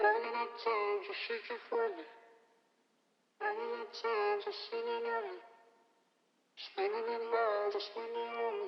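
Processed vocal dubs with formant shifting, reverb and a J37 tape-style vinyl effect for a jazzy hip-hop beat, three phrases of warm, slightly muffled harmonised singing separated by gaps with trailing reverb tails.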